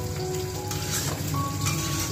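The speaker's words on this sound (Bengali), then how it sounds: "শিম বেগুন আলু বড়ি দিয়ে একটা গামাখা তরকারি হচ্ছে" A Bengali home-style mixed vegetable curry of flat beans, eggplant, potato and lentil dumplings sizzles steadily in a pan, a continuous close frying hiss with faint background hum.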